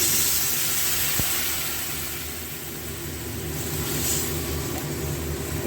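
Broth hits a hot pan of fried eggplant for a hilsa curry, giving a steady, close sizzling hiss that holds evenly throughout with no talking.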